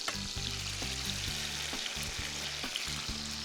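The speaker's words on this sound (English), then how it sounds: "now that the butter is getting nice and foamy, the sage is frying, I'm gonna add the gnocchi" Gnocchi frying with sage in foaming butter in a pan, a steady close sizzle with low rhythmic thumps and scrapes as the pan is stirred or tossed.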